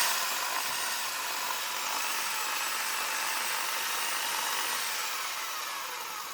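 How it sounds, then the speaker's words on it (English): A brake caliper bore being honed out with a power tool, giving a continuous, loud, hissing abrasive whir that stays steady throughout with no talking. "So as you see there, we were honing it out."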